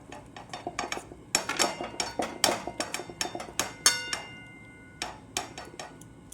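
Kitchen clatter as a lid goes onto a pot of bele fish curry set to cook: a rapid run of sharp metallic clinks and knocks, close and fairly loud, in uneven bursts with short pauses.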